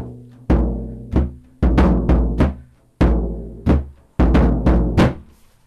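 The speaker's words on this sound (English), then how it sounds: "I've got a really big low drum from this place, and it sounds like this." A big, low drum booms in irregular strokes with deep resonant tails, some hits doubled in quick pairs, close and loud, played alone without talk.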